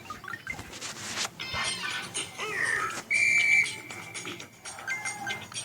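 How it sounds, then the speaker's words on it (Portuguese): A character's whistle in the Subway Surfers mobile game sounds as short, bright electronic whistle tones over game music and effects, with one sustained high whistle near the middle. "Dá um eco no apito do moleque."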